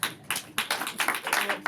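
Studio audience at a live comedy show clapping in brief scattered bursts, a short ragged round of applause that swells and fades unevenly.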